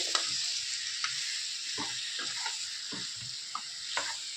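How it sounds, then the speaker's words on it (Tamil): Chicken liver frying in gravy in a pan, stirred with a utensil: a steady, close sizzle runs throughout while soft scraping strokes of the spoon recur every half second or so, with no talk. "எல்லா இடத்துலையும் அந்த கிரேவி பண்ணுற மாதிரி நம்ம பரட்டி விடுறோம்"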